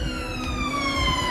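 A fire brigade siren wails past a street bricklaying repair, a loud near tone slowly falling in pitch as the engine passes.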